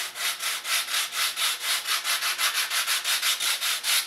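A cut foam piece being sanded by hand to fit a scratchbuilt model hull: rhythmic, close back-and-forth rasping strokes, about five per second, steady and even with no voices.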